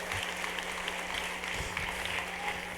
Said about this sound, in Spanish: Le da ese aplauso sonoro a Él.